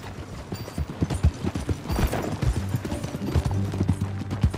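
Horse hooves clip-clop in a quick, uneven trot in Red Dead Redemption 2, close and clear, with faint game ambience behind and no voices.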